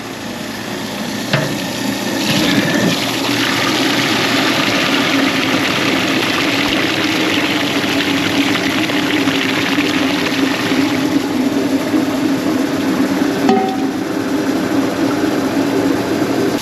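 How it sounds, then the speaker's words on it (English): Garbage disposal running while jammed with steel screws and Orbeez, giving a steady loud mechanical drone throughout with a brief clatter near the start and another short knock toward the end. "so they try to turn on the garbage disposal"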